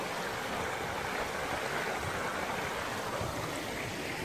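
Water runs steadily into a river at Healey Dell, a constant close rushing hiss with no change in level and no talk.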